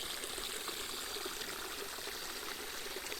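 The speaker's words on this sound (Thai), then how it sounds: "น้ำตก" A forest waterfall gives a steady, faint rushing hiss of falling water heard from a distance, continuous and unbroken.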